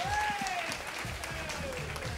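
Applause from an audience at a hip-hop MC battle event, the King of Kings 2019 East Japan qualifier, rising briefly over a crowd and overlapping voices that carry the whole short stretch at steady loudness.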